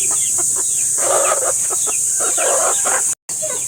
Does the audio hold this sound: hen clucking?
yes